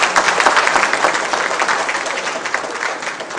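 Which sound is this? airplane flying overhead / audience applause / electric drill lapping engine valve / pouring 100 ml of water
audience applause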